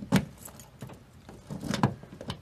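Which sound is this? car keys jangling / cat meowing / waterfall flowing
car keys jangling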